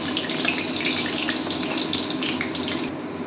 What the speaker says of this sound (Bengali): এখন বড়াগুলো আমি ছেড়ে দিয়েছি।